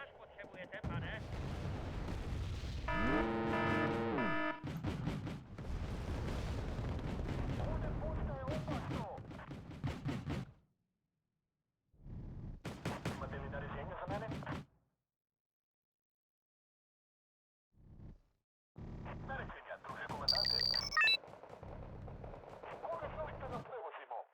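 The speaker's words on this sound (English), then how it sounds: "No, it's a bomber. Classic bomber." Bomber strike in Wargame: Red Dragon, heavy booming bursts and rumbling blasts in clusters separated by silent gaps, with players talking over parts of it.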